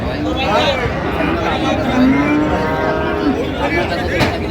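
A cow moos with long, drawn-out calls amid steady crowd chatter and bustle at Ambari cattle market in Dinajpur, Bangladesh; voices talk throughout.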